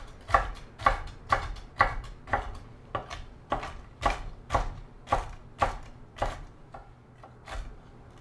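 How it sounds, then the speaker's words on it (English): Salted cashews being chopped with a Japanese chef knife on a cutting board, a steady series of about fifteen sharp, close knocks at a brisk, even rhythm, with no one talking. "let's find our overpriced Japanese chef knife and chop up some nuts."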